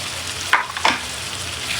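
Prawn curry sizzles loudly in a pan, with two sharp scraping stirs standing out over a constant frying hiss, close and without speech.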